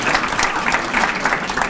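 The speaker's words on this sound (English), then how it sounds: "Nice round of applause for Dodie Criscola" Audience applause at a sports hall of fame ceremony, a dense, steady roomful of clapping that holds at a fairly loud, even level throughout without a break.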